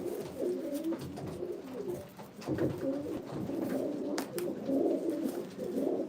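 A blue hen pigeon of Paweł Mędrysa's line coos in soft, repeated low rolling phrases close by, steady through the clip with faint clatter in the loft.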